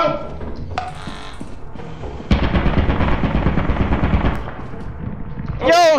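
An automated turret in Lethal Company fires a rapid, loud burst of shots lasting about two seconds. Game sounds come before and after it, and people talk around it.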